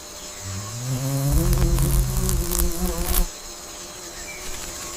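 A wasp buzzes on weathered wood in a rainforest setting, a steady close insect hum that swells loudly for a couple of seconds then fades back to a quieter drone.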